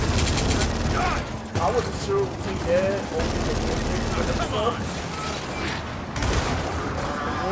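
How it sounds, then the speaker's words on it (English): Gunfire in the video game Gears of War 4, sustained rapid bursts and mechanical clatter running throughout, loud and close, with players talking over the shooting. "who else is shooting me?"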